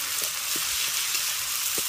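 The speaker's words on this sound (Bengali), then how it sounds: "এবার অল্প আঁচে চিনেবাদাম নারকেলটাকে খুব ভালো করে একটু কষিয়ে নেব।" Ground peanut paste with grated coconut frying over low heat in a pan, giving a steady close sizzle with a few soft stirring scrapes and no voices.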